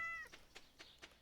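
Cat in Stardew Valley gives a quick run of soft meows after being petted, following a short chime, quiet and close, four brief calls about a quarter second apart.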